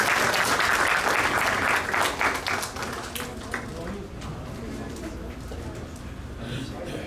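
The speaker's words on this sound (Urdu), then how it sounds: "تو پہلے کچھ تالیاں ہو جائیں ان ینگ لوگوں میں" An audience at an Eid community gathering applauds the young people, a dense burst of clapping that is loudest at first, then thins into scattered claps, with voices murmuring underneath.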